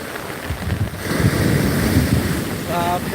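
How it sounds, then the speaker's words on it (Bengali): Heavy sea waves surge and crash at Digha beach, a loud continuous roar of surf with strong wind buffeting the microphone and a voice briefly heard near the end. "বাপ রে ঢেউ"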